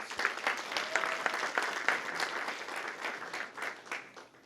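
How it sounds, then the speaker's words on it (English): A small crowd at a school kindergarten information day claps in steady applause, close and fairly lively, gradually tapering off toward the end. "Let's give them a round of applause."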